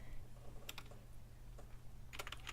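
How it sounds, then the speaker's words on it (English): Several quiet clicks from a computer keyboard come in two small clusters, faint and close, with a low hum underneath. "I'm going to type"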